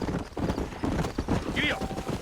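Horse hooves clip-clop steadily in the Red Dead Redemption video game, with a brief whinny, under a voice speaking throughout.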